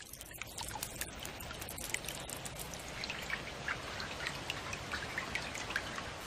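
Steady rainfall with dense pattering drops and scattered sharper drips, continuous and moderately close.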